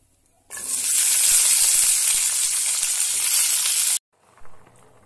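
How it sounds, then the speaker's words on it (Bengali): Vegetables fry in white oil in a kadai for veg khichdi, giving a loud, steady sizzle that starts suddenly and runs for about three and a half seconds before cutting off, followed by a faint clatter. "এরপর সবজিগুলি এক এক করে আমি সব ভেজে নেব।"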